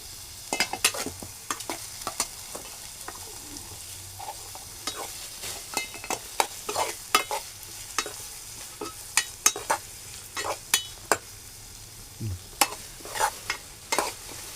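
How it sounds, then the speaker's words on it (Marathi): Onions fry in a pan as a spoon stirs them, with irregular scraping clicks and taps over a soft, steady sizzle, close and without talk. "कांदा तांबूस होईपर्यंत आपल्याला ढवळून घ्यायचं आहे."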